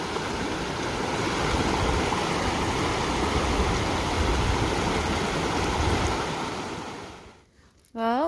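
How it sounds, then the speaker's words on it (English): Hikers cross a mountain stream amid loud, steady rushing water close by that suddenly drops off near the end, followed by a brief sharp noise. "This is our first real stream crossing"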